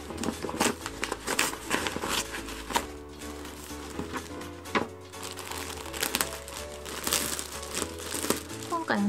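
A plastic package holding balls of yarn is unwrapped, with repeated crinkling and rustling of the wrapping under a woman's speech, close and fairly quiet.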